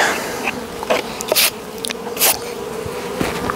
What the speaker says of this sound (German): kommen alle restlichen Bienen runter